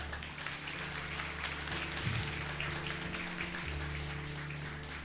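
A church congregation applauds during a sermon about Jesus the Good Shepherd, making steady, dense clapping over sustained music that holds a low drone throughout.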